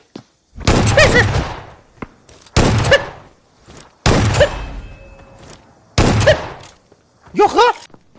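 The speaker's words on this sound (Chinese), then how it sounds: "拿出马喷来一波马喷压制" Shotgun blasts in the shooter game Game for Peace, four loud, evenly spaced booming shots each followed by a fading tail, with a brief voice near the end.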